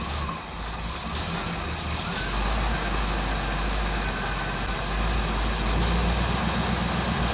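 A restored 1957 Chevrolet Bel Air with a carbureted engine idles low, below 500 RPM, giving a steady loud throbbing rumble with a slightly uneven beat, close up and without talk.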